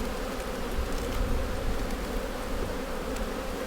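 Honeybees buzz in a steady, dense drone close by, with no voices, as a hive split is being set up.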